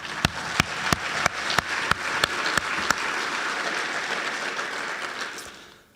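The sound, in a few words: applause for graduating fire recruits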